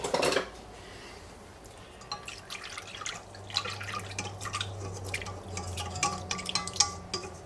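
A spoon stirring instant yeast into lukewarm water in a bowl, heard as soft clinks, scrapes and small watery drips scattered over several seconds, close but quiet, with no talking.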